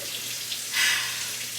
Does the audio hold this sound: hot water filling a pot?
yes